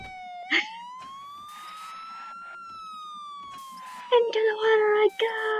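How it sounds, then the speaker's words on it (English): A video game Lamborghini police car siren in Garry's Mod wails, rising and falling steadily across the clip, followed by a burst of harsher, buzzy electronic tones near the end. "How about a Lamborghini police car?"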